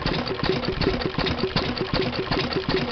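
An antique stationary engine with a side-shaft-driven fuel pump and mechanical oiler runs at a steady idle, producing a regular, rhythmic chuffing and knocking beat that continues throughout.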